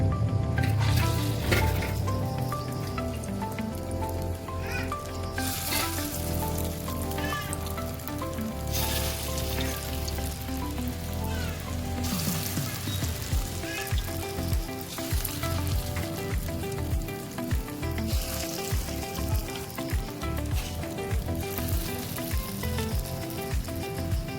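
Kofta balls for a kofta curry fry in hot oil, giving a steady, dense sizzle and crackle that runs throughout without pause.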